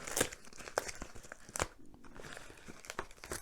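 Tape and cardboard tearing as a well-taped parcel holding keys is pulled open, with several sharp rips and crinkling bursts spread across the moment, close and fairly loud with no talking.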